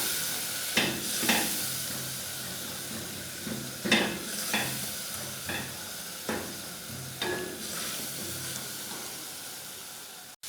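Ground coriander being stirred into chana pulao in a pan, a soft sizzle under repeated scraping strokes of a spoon at an uneven rhythm, close and moderately loud with no talking.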